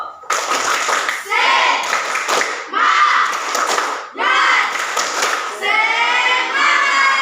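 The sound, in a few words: applause, group clapping hands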